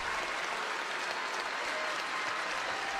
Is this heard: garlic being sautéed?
no